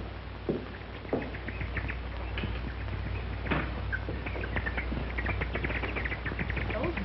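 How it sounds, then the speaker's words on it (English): Birds chirp busily in a rural morning setting, with many short calls scattered throughout over a steady low hum. "Those birds, what are they so excited about?"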